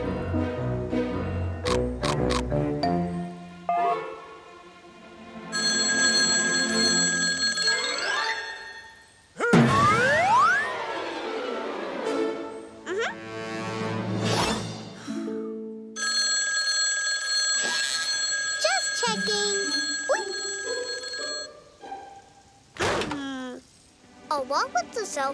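A cell phone rings repeatedly in a cartoon, its bright electronic tones recurring in bursts between chimes, jingles and lively music, with a voice and other characters speaking over parts of it.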